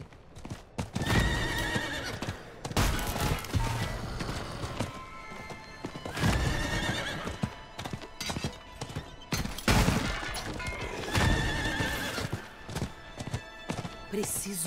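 A horse neighs and gallops in the video game Diablo 4, with repeated hoof clip-clops, loud whinnies and bursts of combat noise, mixed with game sounds and some talk.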